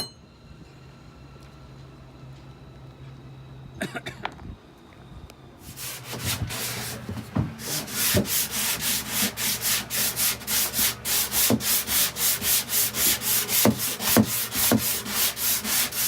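An orbital sander grinds against wood after a few quiet seconds, then runs steadily up close with a rhythmic, pulsing scrub.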